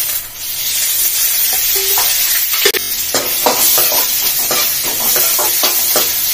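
Onion frying in a little oil makes a loud, dense sizzle up close, punctuated by a sharp knock and then a run of rhythmic scraping strokes as it is stirred, with no speech.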